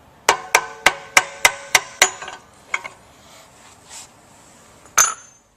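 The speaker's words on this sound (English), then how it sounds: "you might have to give this one a little tap" A hammer taps a pump coupling to free its halves: six quick, evenly spaced metallic strikes, then a few lighter knocks and one final sharp hit, close and clear with nothing else heard.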